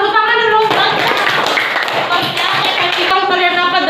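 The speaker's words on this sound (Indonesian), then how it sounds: "Iya, tepuk tangan dulu." A group of people clapping together in a classroom, a dense burst of applause lasting a couple of seconds between stretches of voice.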